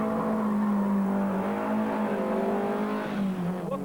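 A rear-wheel-drive car drifting under throttle at a drift demonstration, its engine held at high, steady revs with the pitch wavering and dipping slightly, loud and close throughout.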